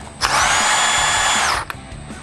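An SP cordless 18V 1/2-inch SX drive mid-torque impact wrench spins up and runs loud and steady at close range for about a second and a half, then cuts off, with no talking.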